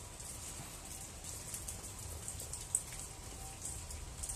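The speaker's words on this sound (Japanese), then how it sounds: "今日はですね、雨が降ってますけど" Light rain falls outdoors, heard from a sheltered spot as a steady, faint hiss with a scattering of soft drops and one brief louder tap, with no voices.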